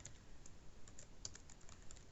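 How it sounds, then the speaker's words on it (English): Quick light key presses on a calculator while numbers are entered, a short run of small taps close by and fairly quiet, with no talking. "So I'm gonna type into my calculator."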